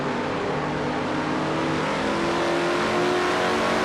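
A race car engine howls at steady high revs on the Watkins Glen circuit in an IROC-style racing video game, a loud, continuous, dense drone with no pauses.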